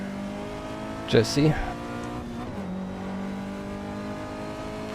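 Jaguar E-Type race car engine in a vintage GT racing video game, a steady low drone with a brief louder rev burst early on, heard under a voice talking.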